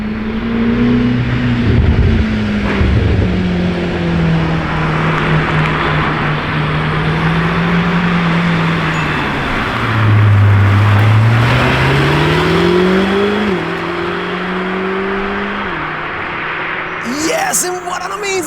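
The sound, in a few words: Lamborghini supercar engine revving loudly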